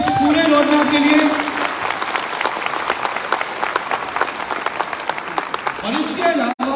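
An audience at a Modicare event in Delhi's Talkatora Auditorium, 19 May 2023, breaks into loud, sustained clapping that gradually thins out, with a voice speaking at the start and end.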